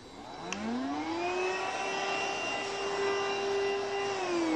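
A Hoover Rhapsody RA22HCG cordless stick vacuum cleaner whirs up to speed, its motor whine rising in pitch, then runs steadily and loudly up close with a broad airy rush.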